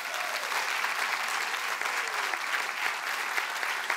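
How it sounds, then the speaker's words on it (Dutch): Warm applause from a live talk show studio audience for the guests, a dense, steady clapping that stays even and close for the full few seconds. "Applaus voor onze gasten graag."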